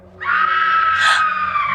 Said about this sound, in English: We then hear a distant woman screaming.